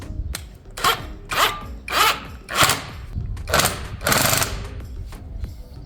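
A power tool drives a nut on a car's coil spring strut assembly during a suspension spring and shock absorber replacement, giving about eight short, loud rattling bursts in a rhythmic series, close by.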